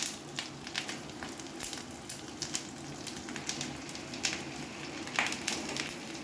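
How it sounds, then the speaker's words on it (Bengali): Potatoes and pointed gourd frying with fish roe in a pan, a steady close sizzle with faint crackles and occasional light clicks of stirring, no voices. "এই আমাদের ভাজা প্রায় হয়ে এসছে।"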